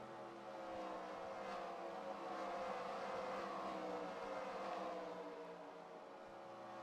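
Race cars in the NR2003 racing game sweep past at Phoenix, a steady layered engine drone that swells around the middle and eases off, continuous and fairly faint with no talk.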